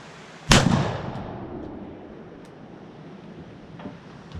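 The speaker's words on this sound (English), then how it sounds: "squeeze the trigger" A single loud, close 10 gauge shotgun blast firing a turkey load, a sharp crack followed by a long rumbling decay and faint echoes fading over several seconds.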